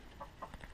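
Soft, faint chicken clucks, two or three short calls, sound over a quiet, steady background in a village poultry run shared with turkeys.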